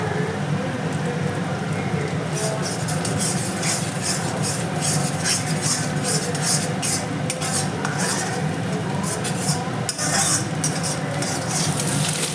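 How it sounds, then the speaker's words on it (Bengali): Steady sizzling of egg frying in oil, with a spoon scraping and stirring through it in short clinks, close by and continuous. "এবার আমি একটু নাড়িয়ে নেব ভালো করে"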